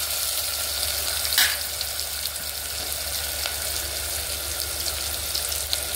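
Onions and green chillies frying in a pan for a spicy Andhra mutton curry, giving a steady broadband sizzle with a brief louder stir, close and without talk.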